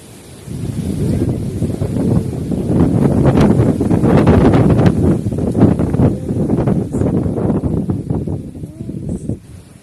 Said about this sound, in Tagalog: ganyan kalakas na yung hangin namin dito